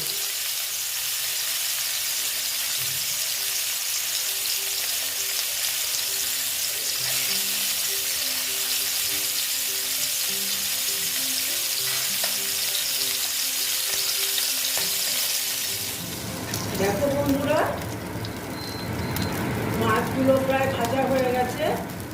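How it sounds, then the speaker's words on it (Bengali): Koi fish frying in oil, a loud continuous hiss and crackle up close for most of the stretch, then shifting into busier spattering and clattering near the end. "মাছগুলো আমি এখন ভেজে নেব"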